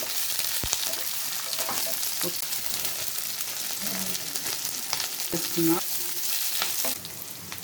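Four or five green chillies and capsicum pieces fry in an oiled pan for chicken 65 biryani, a constant close sizzle broken by occasional stirring scrapes and knocks.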